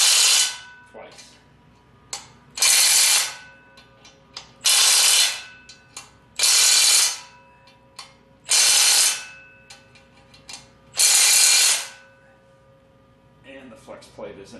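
A hand ratchet tightens the flex plate bolts on a 1976 Corvette restomod in six regular bursts of rapid clicking, each about a second long and separated by short pauses, heard up close.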